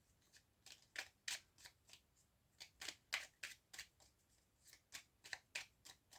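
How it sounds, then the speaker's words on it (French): Tarot cards being shuffled by hand: a close, dry series of quick riffling bursts in irregular clusters, with brief pauses between groups and no talking. "on va essayer de bien brasser les cartes."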